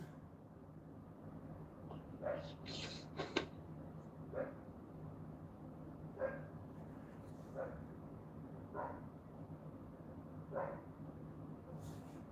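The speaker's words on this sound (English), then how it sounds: "Why are you barking, Kiki?" A dog barks in short, spaced yips and woofs, roughly every second or two, moderately close over a steady low background hum.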